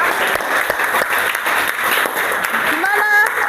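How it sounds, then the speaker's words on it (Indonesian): Classroom applause from students rewarding groups after their mind-mapping presentations, a dense steady clatter of many hands lasting throughout, with a brief voice rising near the end. "kita beri tepuk tangan lagi untuk kalian semua"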